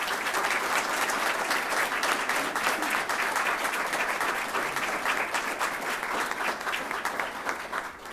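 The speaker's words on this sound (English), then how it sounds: "Please join me in giving them all a round of applause." Steady, full applause from an audience at a district attorney's swearing-in ceremony, many hands clapping in a dense wash that holds level for the whole stretch.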